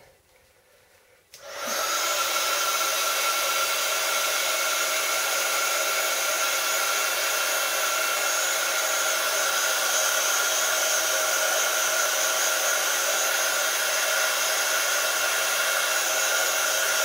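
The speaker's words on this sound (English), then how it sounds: "So I'm going to quickly dry that with my heat tool." A handheld craft heat tool blows continuously while drying paint, switching on after a brief quiet moment and then holding a loud, steady whirring roar close to the microphone with no talking.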